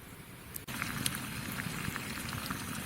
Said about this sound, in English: The water gurgled, probably boiled.